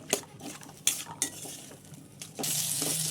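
Potatoes fry in hot oil in a pan, with a utensil scraping and clinking against the metal in a few sharp knocks before a brighter, steady sizzle rises.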